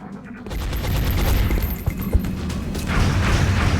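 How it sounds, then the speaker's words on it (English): Suppression gunfire in the video game XCOM Enemy Within, a sustained fusillade of rapid shots and crashing impacts that kicks in after a brief quiet start and continues loudly throughout. "Muton's gonna try to fire back on the person doing the suppression"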